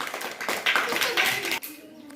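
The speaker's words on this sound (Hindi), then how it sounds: "तालियां बजाइए।" Audience applause at a Hindi-language classroom general-knowledge quiz, a burst of hand clapping from a group that fades after about a second and a half, with chatter mixed in.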